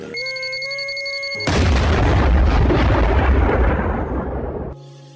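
A bomb explosion sound effect: a held electronic tone is cut off by a loud roaring blast that rumbles for about three seconds before fading, and then a short tone returns.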